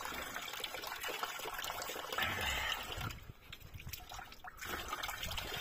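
Water from a natural mountain spring in the Middle Atlas, Sefrou province, Morocco, flows in a steady, fairly soft rush that dips briefly partway through before returning, with no voices.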